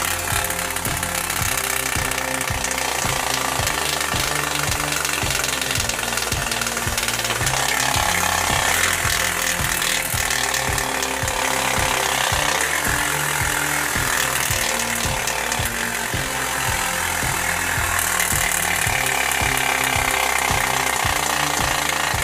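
A bicycle rigged to mimic a dirt bike, ridden along with a rapid, continuous mechanical flapping rattle that pulses in steady rhythm, loud and close for the whole stretch, without speech.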